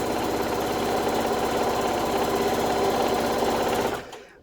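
A Bernette B77/B79 sewing machine runs fast during free motion quilting, giving a loud, steady mechanical whir with rapid needle clatter that holds for about four seconds and then winds down abruptly to quiet.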